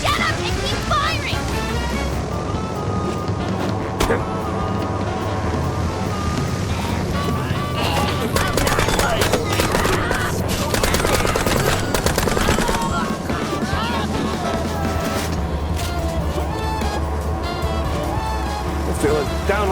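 Dense, continuous gunfire in the Mouse P.I. For Hire video game, loud rapid bursts over a rumbling bed of action noise, with voices shouting at times.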